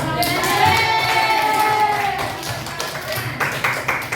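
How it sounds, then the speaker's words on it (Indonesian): A small audience claps hands in a classroom presentation, scattered taps emerging alongside tonal voices and children's chatter, with sharper claps toward the end. "Ayo, kasih tepuk tangan."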